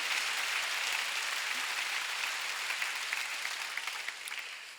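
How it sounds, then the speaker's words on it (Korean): A church congregation at a Sunday worship service applauds together, a continuous wash of many hands clapping at moderate distance, steady and sustained before thinning slightly at the end. "깨달은 사람만 박수 쳐보세요"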